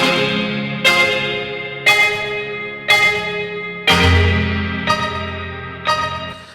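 A twangy, filtered, delayed piano from the Sample Logic Key Fury instrument plays six spaced notes, each struck sharply and ringing out into a long, echoing decay with no other sound.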